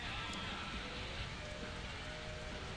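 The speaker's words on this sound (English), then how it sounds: "I light a fire and it just starts raining." Steady rain falls in the video game My Summer Car, a dense, even hiss that holds at the same level throughout with no voices over it.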